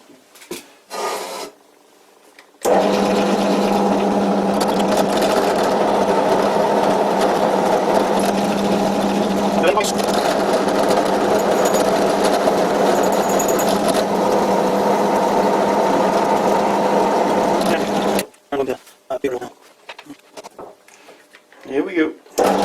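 A Dremel-style mini grinder runs on a workpiece for about fifteen seconds with a steady, loud, buzzing drone and gritty grinding texture. It is bracketed by brief handling noises and short bits of talk before and after.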